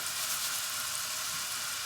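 Vegetables sauté in a pan with a light sprinkle of salt, giving a steady, soft, even sizzle heard alone and close for a brief moment.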